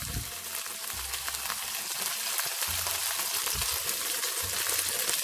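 Chicken wings pan-fry in soy sauce over medium-low heat, a continuous close sizzle and crackle with a few soft low thumps from the pan, with no voices.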